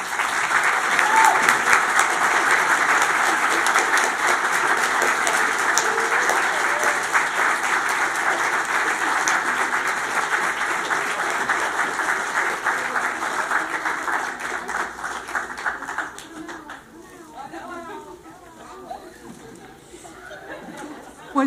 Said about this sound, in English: will you just give them a special round of applause yourselves?